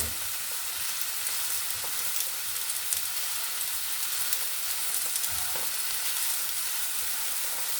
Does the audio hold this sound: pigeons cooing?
no